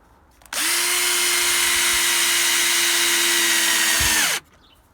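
A power drill drives screws into recycled wood while building a chicken coop. One continuous, loud, close whir runs for about four seconds at a steady pitch, then stops abruptly.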